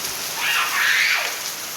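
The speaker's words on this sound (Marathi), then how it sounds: "पाऊस खूप आहे" Steady broadband hiss of heavy rain, swelling slightly in the middle, continuous and fairly close with no voices.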